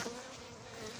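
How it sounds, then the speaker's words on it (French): Bees released after being vacuumed up buzz in a dense, steady swarm drone, moderately loud and close, for about a second with no voices. "Ah ouais, c'est sûr que là, les abeilles."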